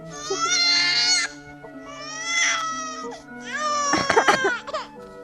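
An infant in a TV episode cries and wails in long, strained bursts, breaking into sobbing gasps toward the end, loud and close with no other sound.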